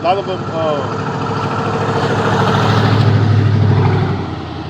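A loud work truck engine idles nearby, a steady low rumble with a drone that rises slightly toward the end. Someone talks over it throughout.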